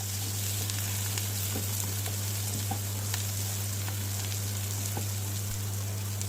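Shallots and curry leaves fry in hot oil for a prawn and bean milk curry, with a steady, close sizzle and crackle that never lets up.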